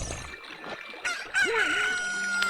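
A rooster crows in Zelda Ocarina of Time, a newly hatched chicken letting out a loud, close cock-a-doodle-doo with a rising then falling squawk after a few soft clucks, with no talk.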